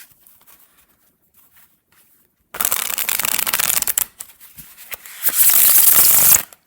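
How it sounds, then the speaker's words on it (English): A deck of stiff linen-finish tarot cards being shuffled close up, starting after a quiet pause with a rapid riffling burst, a brief break, then a second louder riffle. "let's give this sucker a shuffle"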